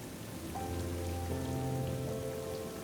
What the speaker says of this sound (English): It really didn't stop raining at all.